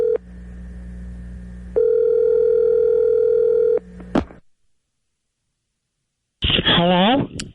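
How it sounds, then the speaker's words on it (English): A telephone call being placed: a steady dial tone, then touch-tone dialing beeps, a brief click and silence, followed by a loud ringing tone on the line. "we've got a phone number for Tiger, so let's give him a call"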